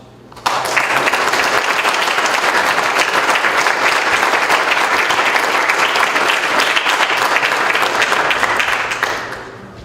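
A crowd at a Veterans Day celebration in Philomath breaks into a sustained round of applause, dense and steady for about nine seconds before tapering off at the end.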